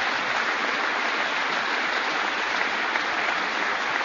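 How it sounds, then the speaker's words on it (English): An audience at a vice-presidential speech in Anderson, Indiana claps, giving a steady, dense round of applause that holds at an even level from start to finish, with no voice over it. "Why don't we give Chuck Staley and the whole Flagship Enterprise Center a team round of applause."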